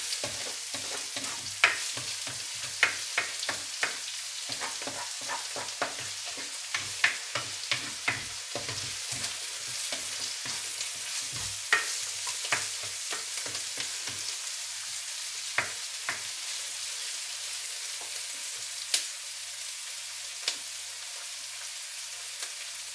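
Turkish menemen cooks in a frying pan with a soft, steady sizzle broken by frequent sharp ticks and scrapes of a utensil, heard up close with no voices.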